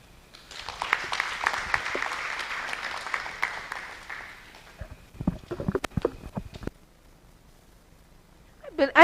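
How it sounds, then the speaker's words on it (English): Audience applause at a real estate engagement meeting in Mzuzu, a dense clapping wash that fades after about four seconds into a few scattered claps, with faint voices and a brief louder sound at the very end. "I believe he deserves another round of applause."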